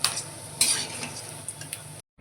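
Egg chops fry in white oil with a soft continuous sizzle, marked by a few light clinks and stirring scrapes of a utensil before the sound cuts off.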